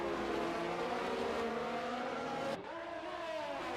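Formula-style race cars, including a Haas and an Alfa Romeo, roar around the Azerbaijan circuit in a racing video game, a loud high engine whine holding steady before shifting pitch as a gear changes.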